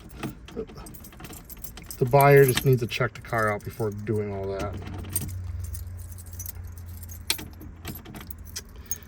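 Car keys jangle in a hand beside a customized 1965 Plymouth Barracuda with a twin-turbo 360 V8, a short metallic rattle under someone speaking nearby.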